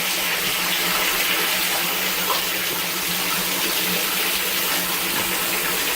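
Rainwater from a French drain pours steadily into a storm drain catch basin, a constant close gushing splash with no pauses and no voices.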